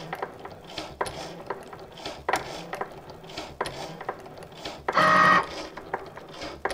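A Cricut cutting machine running a cut on flock material for a rhinestone sweatshirt, with intermittent whirring carriage moves, ratcheting mechanical clicks and a brief louder burst near the end, close and alone.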